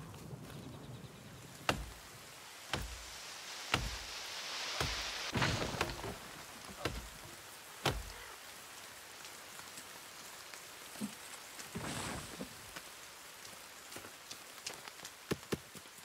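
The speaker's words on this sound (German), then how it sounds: "Ja, geil, es regnet wieder." Steady rain in the video game The Forest hissing on a surface, broken by sharp knocks and clicks, with a brief louder gust of noise midway.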